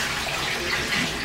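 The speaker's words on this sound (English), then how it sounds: "So I'm going to find out how much this takes per flush." A toilet flushes and refills with a steady hiss of rushing water, loud and unbroken from start to end, with no voices.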